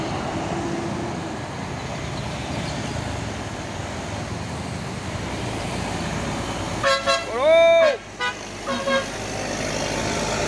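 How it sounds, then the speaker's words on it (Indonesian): Steady roadway traffic rumble with a large tour bus passing close by, and a loud horn blaring in several bursts near the end. "Bus pariwisata ini ya."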